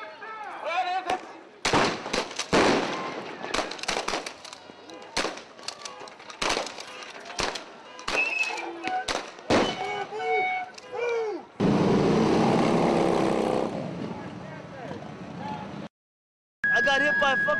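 Tear gas canisters fired at a waterfront workers' protest, a string of sharp loud bangs and pops amid a chanting, shouting crowd, followed by a long harsh hissing blast near the end.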